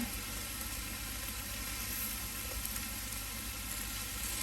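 A pot of pearl millet porridge being stirred with greens and green chillies, a steady close sizzling, bubbling hiss running without pause under no talk.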